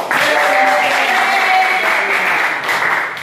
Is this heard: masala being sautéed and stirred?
no